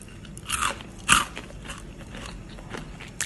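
Crisp bites into a fried corn risol filled with crunchy peanuts, a few loud crunching snaps close to the mic followed by quieter chewing.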